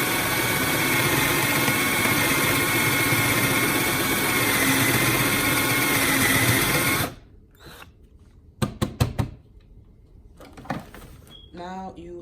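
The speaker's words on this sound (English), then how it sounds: "So you will just press that right there and drill." A power drill whines steadily for several seconds as it bores into wood, then stops, followed by a few short clicks and bursts of handling noise.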